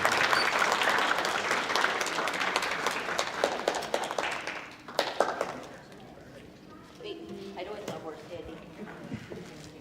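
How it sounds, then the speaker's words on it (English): An audience at a Relay for Life kickoff party applauds cancer survivors, dense loud clapping that thins out and fades by the middle, followed by quieter room noise and some voices. "Please give them a round of applause."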